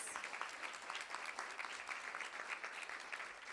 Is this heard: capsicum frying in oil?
no